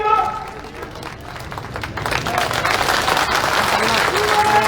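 Audience applause at a political rally in Gwalior, dense clapping that swells after a brief lull and continues steadily, with crowd noise and some voices mixed in.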